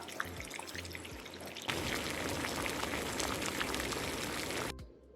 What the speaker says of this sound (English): we've got the lobsters in boiling water.